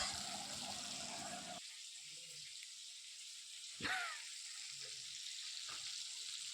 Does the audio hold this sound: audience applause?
no